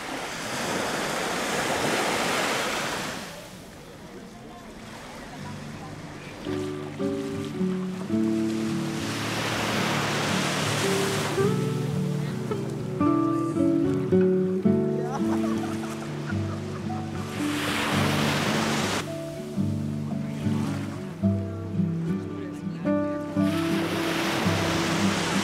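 Sea waves surge and wash in repeated swells at the Morgiou calanque inlet near Marseille, with bird calls rising over the surf in the middle and later stretches.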